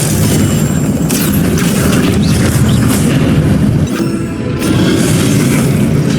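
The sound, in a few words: Confringo explosive spell blast in Hogwarts Legacy video game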